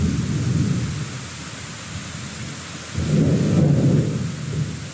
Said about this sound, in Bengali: আকাশে ডাক শুনতে পাচ্ছেন আপনারা?